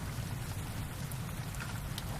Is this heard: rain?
yes